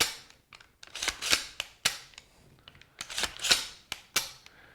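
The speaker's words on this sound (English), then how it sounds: "I should hear and feel an audible click" A Ruger SFAR rifle's trigger and action clicking repeatedly during a function check: sharp, close metallic snaps arriving in irregular clusters, with near silence between them.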